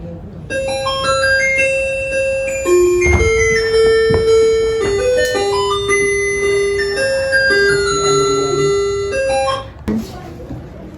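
A sleep-time bell in a mafia game played in a theater plays as a bright, melodic chime tune of stepping tones, ringing steadily and loudly for about ten seconds before stopping.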